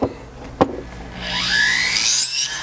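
A rotary burr grinds texture into a metal plate: a couple of sharp knocks, then a rising high-pitched whirring rasp that holds steady and close as the tool moves in circles.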